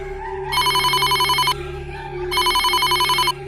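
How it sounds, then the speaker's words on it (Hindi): A telephone rings in two loud electronic bursts, each about a second long with a short pause between, over a low steady hum. "सुष्मिता के फ़ोन पर उसके पापा का फ़ोन आया"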